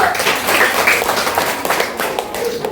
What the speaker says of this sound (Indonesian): Tepuk tangan buat Zahra dulu.